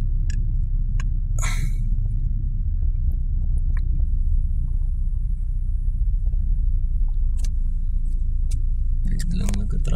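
Traffic slowing to a jam on an elevated skyway gives a steady, loud, low rumble of car engines and road noise, with scattered sharp clicks and a short burst of hiss early on.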